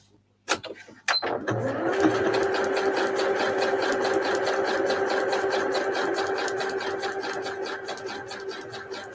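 Sewing machine running a steady zigzag stitch across green fabric scraps, a fast continuous mechanical whir with rhythmic needle clatter, close and loud after a couple of brief handling knocks at the start.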